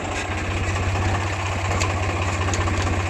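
A Swaraj 744 tractor, a 2013 model, runs in top gear with a steady, rapid diesel chug, a loud, even low throb that continues without a break and with no voices.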